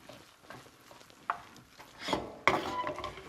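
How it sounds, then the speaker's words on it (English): A Cajun roux being stirred in a hot pan, soft scraping and faint sizzle with a few sharper clinks of the utensil against the pan, quiet and close. "If you feel like it's getting too hot, keep stirring it around"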